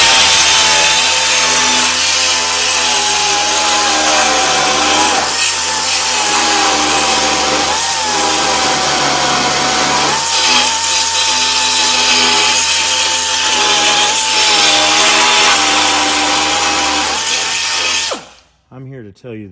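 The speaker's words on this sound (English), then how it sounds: "Let me find my air-powered saw." An air-powered saw cuts through aluminum sheet on a truck bed. It makes a loud, steady, high-pitched whine that holds for most of the run, then cuts off abruptly near the end.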